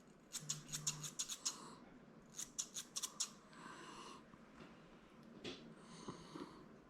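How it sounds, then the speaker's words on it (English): Thinning shears snip through a Miniature Schnauzer's fur during grooming: quick clusters of crisp, close metallic snips in rapid runs separated by short pauses, soft and alone. "I'm using my chunkers, probably come back with my blending shears, thinning shears"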